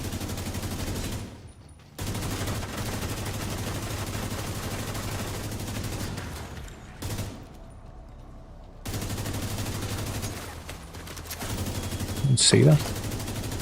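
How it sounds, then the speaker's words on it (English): Sustained assault rifle fire in a video game rolls on in long, loud stretches broken by short pauses, while someone talks briefly and another voice rises near the end. "Shoot with an assault rifle."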